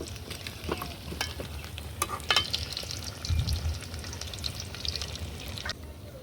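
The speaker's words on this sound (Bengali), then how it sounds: "উল্টায় পাল্টায় দিয়ে ভালো করে ভেজে নিব" Large chalkumra leaf pakoras with a lentil filling deep-frying in oil, a close bubbling sizzle with clinks and scrapes as a spatula flips them, plus a low bump midway, no voices.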